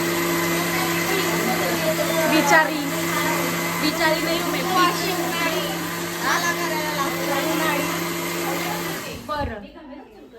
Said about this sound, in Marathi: तोपर्यंत हिला बघा मिक्सर करते